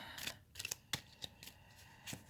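Tarot cards are shuffled by hand in quick, soft riffling bursts and slaps, close up and quiet, with no voices.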